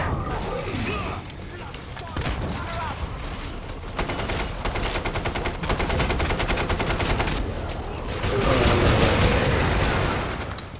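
AK rifle fire in Killing Floor 2 gameplay rattles off in rapid, loud bursts for most of the stretch, with heavier booms near the end and a player talking over the shooting.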